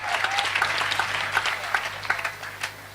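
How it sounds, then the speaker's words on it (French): A church congregation in Benin applauds for Jesus, a sustained dense burst of hand clapping from a crowd indoors, fairly loud, with scattered cries over it. "Est-ce que tu peux acclamer pour Jésus?"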